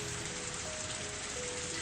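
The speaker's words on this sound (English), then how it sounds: "It's not raining hard at all." Light rain in the visual novel Higurashi patters steadily as a soft, even hiss, with a faint tone running through it and no voices.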